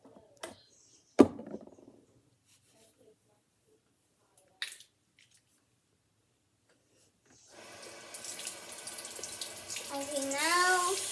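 Squishy toys are handled and washed with soap: a few sharp clicks and squishes break long quiet stretches, then running water starts and grows steadily louder close by.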